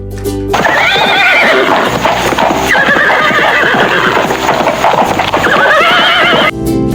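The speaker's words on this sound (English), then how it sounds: "Horse." A horse neighs in loud, shrill whinnies that rise and fall, with a hint of hoof clopping underneath, close by.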